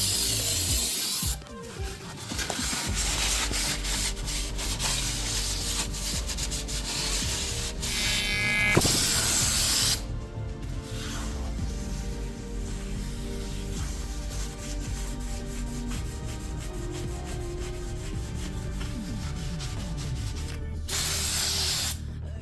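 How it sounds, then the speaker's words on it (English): Brake cleaner sprayed onto a car flywheel and a rag rubbing its surface during a Subaru WRX clutch overhaul: loud continuous hissing spray, then steady scrubbing and rubbing, up close with no talk. "I'm going to use some brake cleaner and a clean rag to clean the surface of the flywheel"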